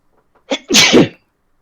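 A single sharp sneeze, loud and close: a brief intake followed by a forceful burst, then silence.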